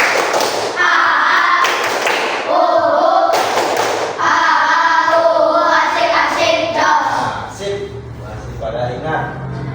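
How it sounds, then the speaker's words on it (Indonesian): Children in a primary school religious education class perform a rhythmic 'tepuk semangat' clapping chant, sharp claps landing in a steady beat while young voices chant loudly together throughout. "Tepuk semangat 2"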